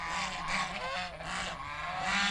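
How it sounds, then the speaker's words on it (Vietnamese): Several geese honk loudly and continuously at close range in a rural outdoor spot in Long Thạnh commune, Vĩnh Lợi district, Bạc Liêu, their overlapping calls rising and falling over a steady low background hum. "Bên đây thì có mấy con ngỗng nè. Các bạn thấy không? Ngỗng nó kêu sùm hết."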